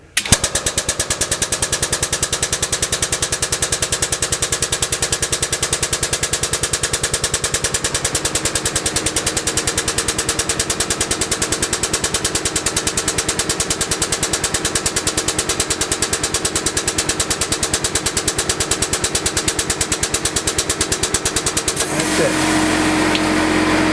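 A Norco air hydraulic jack raises a motor home with a loud, rapid, continuous pneumatic rattle that runs steadily for over twenty seconds before cutting off.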